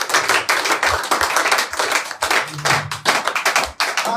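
Church congregation clapping in an energetic, uneven burst, with broadband noise and intermittent low thumps suggesting cheers and shouts mixed in, loud and close throughout.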